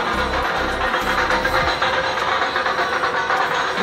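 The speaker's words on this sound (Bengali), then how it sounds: "ট্রেন চলে এসছে" A train pulls into a station, a low rumbling engine drone with rolling wheel noise and a descending whine beneath a broad hiss, fairly loud and continuous.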